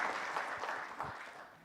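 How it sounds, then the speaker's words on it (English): Brief, faint audience applause for an award winner from Madhya Pradesh at a gala, a soft blur of distant clapping that fades out toward the end. "Round of applause, please"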